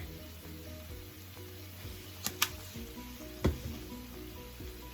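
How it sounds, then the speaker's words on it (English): Slices of green plantain sizzle softly in hot oil, a faint steady frying hiss with a couple of brief sharp pops or clinks. "you just allow your plantains to fry about 2 minutes on each side"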